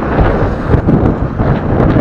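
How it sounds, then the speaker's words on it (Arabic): Strong outdoor wind buffets the microphone in a loud, continuous low roar with uneven gusty surges. "عاود الريح"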